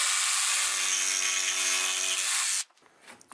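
Wood corners trimmed by a power tool, a loud, steady buzzing hum for a couple of seconds before it cuts off abruptly, followed by faint handling noises.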